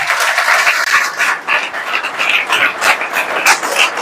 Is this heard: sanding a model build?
no